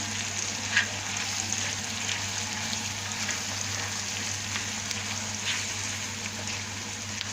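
Kokoreç frying with onions and spices in a hot pan gives a steady, close sizzle throughout, with a few faint clinks of stirring and no voices.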